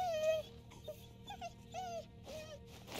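A dog in the video game Moonglow Bay whimpers in a string of short, high whines and yips, about five separate cries spaced through the moment, close and clear over quiet game music.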